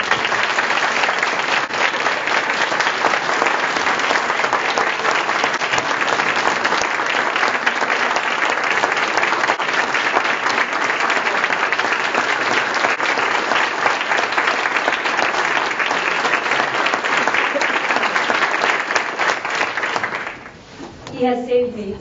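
A large audience at a college event gives sustained, dense applause for a state delegate, a loud unbroken wash of clapping lasting about twenty seconds before it abruptly dies away.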